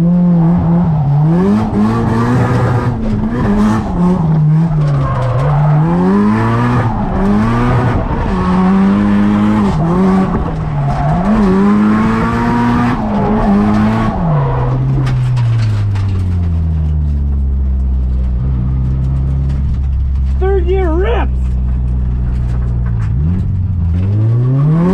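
A drift car on a dormant volcano road runs hard and loud, its engine revving and rising and falling in steady surges with tire squeal over the top, then settling into a lower drone near the end.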